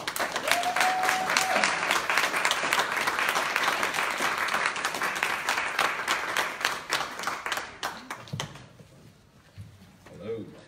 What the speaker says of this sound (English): give a round, large and loud round of applause for Jay Alejandro